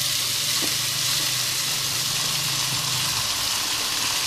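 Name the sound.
rice added to pot of toasted orzo vermicelli, sizzling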